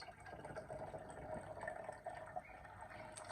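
Water is poured from a cup into a container during a classroom maths lesson, a soft, continuous trickle and gurgle heard fairly quietly at close range for a few seconds.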